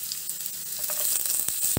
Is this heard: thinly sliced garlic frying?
yes